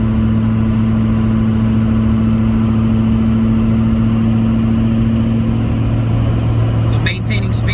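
6.0 Powerstroke diesel truck with a non-VGT drop-in turbo cruising at 60 mph, heard from inside as a loud, steady low engine drone and road hum with no letup.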